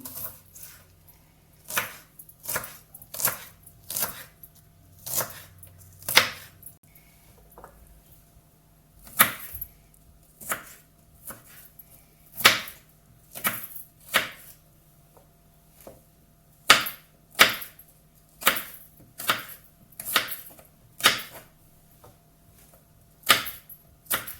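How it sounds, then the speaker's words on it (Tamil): Onions chopped with a knife on a board, sharp irregular knocks in quick bursts and short pauses, close and clear with a faint steady hum beneath and no talking. "இப்போ வெங்காயம் வெட்டுவோம்"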